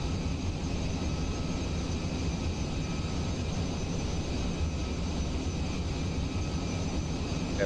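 Steady roaring engine and wind rush of a supersonic aircraft in the Kerbal Space Program video game, a constant broadband drone held at one level throughout, with no talking.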